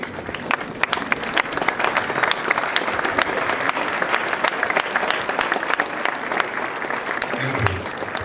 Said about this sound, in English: So we can stand and welcome him with a clap